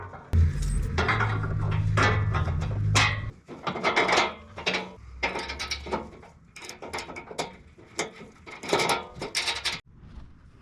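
Nuts being fitted and tightened by hand onto tubular drop step brackets for a Chevrolet Silverado / GMC Sierra, giving a run of close metallic clinks, rattles and ratcheting bursts with short pauses and no talk.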